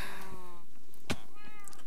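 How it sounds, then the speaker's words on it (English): Cats in a video game meow twice, a long near cry followed by a shorter one, with a soft click between them over a quiet game background. "So now I have four cats, because now I have a kitten."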